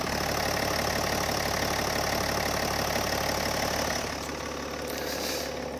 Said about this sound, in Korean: 자 이어서 엔진음 들려드릴게요.